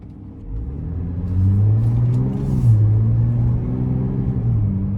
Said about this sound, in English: And the sound is incredible, this exhaust.